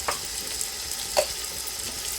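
Chicken sautéing in oil in a pan makes a steady, even sizzle with a couple of brief stirring clinks, close and moderate, with no talking.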